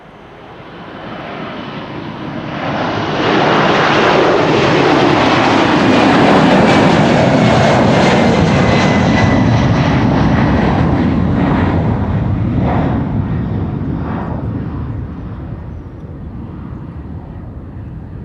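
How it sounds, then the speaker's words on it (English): A United Airlines Boeing 767 jet takes off at Amsterdam Schiphol, a loud broadband engine roar that swells over the first few seconds, holds steady and strong, then slowly eases as the aircraft climbs away. "767 United Airlines Flight 21 on its way out"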